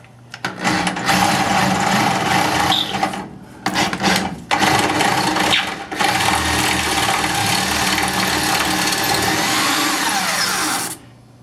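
An old, worn electric drill bores into a rivet on a 1954 Chevrolet frame, giving a loud, close, grinding whir in long bursts broken by a few short pauses, with no talking.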